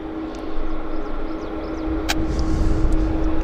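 An airplane lands at Vancouver airport (YVR), heard as a broad, rising roar that swells and stays steady, with faint bird chirps above it.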